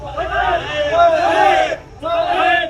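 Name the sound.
crowd chanting religious slogans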